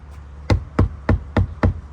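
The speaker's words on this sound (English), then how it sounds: "That's just hitting the door panel." Five sharp, evenly spaced knocks on a Toyota Tacoma door panel treated with Dynamat sound deadening, each a dull, damped thud close to the listener, about a quarter second apart with no talking.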